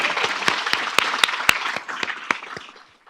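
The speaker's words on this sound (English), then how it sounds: "So we could clap it up for our students one last time." Audience applause for students at a summer research institute capstone keynote, a dense round of clapping with sharp individual claps standing out, fading toward the end.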